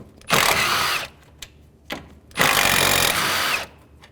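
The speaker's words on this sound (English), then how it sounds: "I'm going to take these two bolts out," A power tool with a 10mm socket whirs through two loud, close bursts, spinning out bolts on a 2011-2014 Chrysler 200 during cooling fan removal, with short clicks in between.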